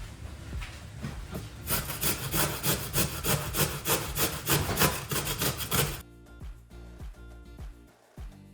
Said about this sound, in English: I'm gonna grate all of those carrot and kohlrabis